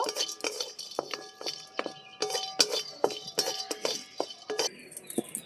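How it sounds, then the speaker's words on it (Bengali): Whole garam masala with mace and a little nutmeg is stirred in a wok, giving quick, close metallic clinks and scrapes of a spoon against the pan in an irregular rhythm. "সামান্য একটু কড়াইতে নেড়ে চেড়ে নেব"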